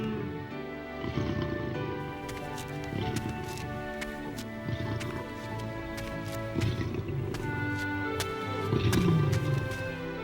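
Cartoon lions roar and growl in a den in an animated Bible story of Daniel, with rumbling snarls rising and falling alongside scattered clicks and faint background music, without speech.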